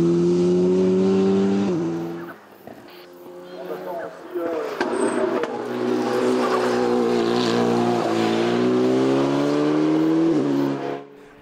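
An Alpine A110 GT Sport race car climbs a hill at Mont Dore, its engine revving hard and rising through the gears, briefly dipping then pulling loudly again, with a commentator talking throughout.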